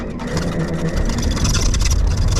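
A small propeller airplane's engine runs close by with a steady, loud droning rumble that barely changes, no talk standing out over it.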